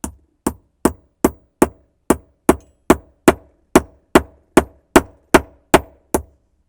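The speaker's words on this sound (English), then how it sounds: "take my massive hammer and start tapping this guy through" A massive hammer taps a punch to drive a trigger pin through a Vickers Tactical / Tango Down Gen 5 flat face trigger assembly, giving about sixteen sharp, evenly spaced metallic knocks that are close and loud, with no voice over them.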